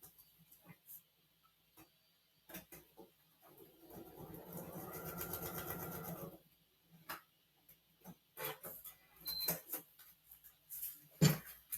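A sewing machine stitches a foundation paper-pieced quilt block in a quiet room, running in one steady burst of about two seconds. Scattered ticks and handling clicks come before and after it.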